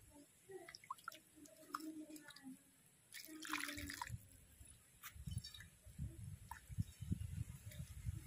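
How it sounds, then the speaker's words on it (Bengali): Water poured into a pot of prawn sour curry while cooking: soft splashing, trickling and drips come in uneven bursts, close by but quiet, with faint handling noises and no clear speech. "এবার পরিমাণ মতো জল দিয়ে দেব"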